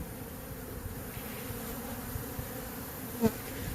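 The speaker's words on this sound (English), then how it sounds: "some clustering, some bees that are paying obvious attention to a location within the cluster" Steady, low insect humming from a swarm of honey bees fills the background, a continuous buzz with one brief louder bump near the end.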